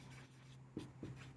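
Marker or chalk strokes on a classroom board during a physics lecture on plane-mirror images, two short scratchy strokes close by over a steady low hum, no talking.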